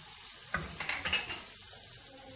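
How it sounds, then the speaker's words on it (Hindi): Tomatoes, green chilies and spices for tava keema fry in a pan, a soft sizzle with a few clinks and stirring scrapes near the start, then a quiet steady fry. "थोड़ी इसको भून लेंगे कि मसाले अच्छी तरीके से भून जाए"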